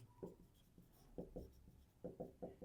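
Pen strokes on paper during a Class 10 math lesson on pairs of linear equations: short scratchy bursts in two clusters, each a quick run of three or four strokes, close and fairly quiet with no talk.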